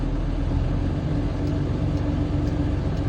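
A garbage truck's engine revs up and holds a steady, loud, low rumbling drone while the truck pulls gently against its engaged parking brake, with no speech.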